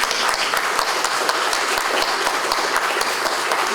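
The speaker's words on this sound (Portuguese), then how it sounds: "Vamos agradecer e aplaudir o Zé Carlos Coutinho." An audience at a Darcy Ribeiro centenary event applauds a speaker, steady even clapping from a roomful of people that carries on without a break from start to finish.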